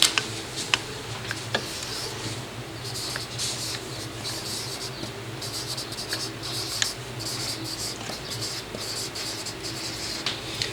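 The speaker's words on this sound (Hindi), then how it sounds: "एग्ज़ाम्पल लिखता हूँ मैं" Chalk or a marker taps and scratches across a board while an example is written during an English grammar lecture, a series of faint, close, irregular ticks over a quiet room hum.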